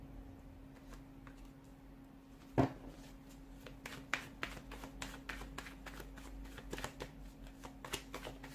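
Tarot cards are shuffled up close, a quiet run of crisp riffling taps and flicks with one sharper snap early on, the card sounds repeating in quick irregular bursts over a faint steady hum.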